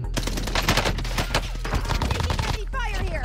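Rapid automatic gunfire in Call of Duty: Warzone, shots fired through a wall in dense, fast bursts close up, briefly easing near the end.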